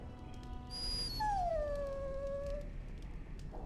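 In the video game Dragon Age: Origins, a dog gives a high, drawn-out whimpering whine that slides downward in pitch, clear and fairly close over a quiet background.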